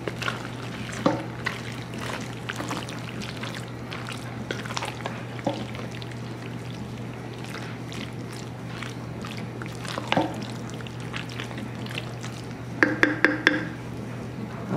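Chicken and shells get stirred in a pot with soft, close scraping and wet shuffling, a few light clinks of the utensil against the pot, and a short burst of clatter near the end.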